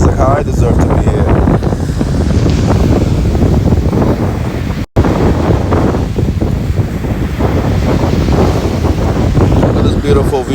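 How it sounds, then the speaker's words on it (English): Ocean waves crash steadily onto a Florida beach while a strong sea breeze buffets the microphone, a loud continuous roar with a brief dropout midway. "Look how powerful the ocean waves is crashing."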